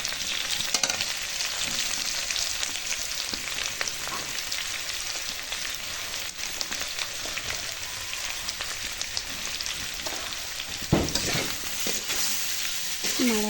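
Potatoes, tomato and turmeric crackle in a hot pan for an aloo paneer curry, a dense rain-like sizzle running throughout, with occasional stirring scrapes and a louder clatter near the end.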